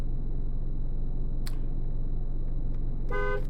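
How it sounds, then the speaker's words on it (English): A car horn honks once in the survival game Cataclysm DDA, a short bright blare near the end over a steady low rumble, with a faint click or two just before. "Let's honk the horn."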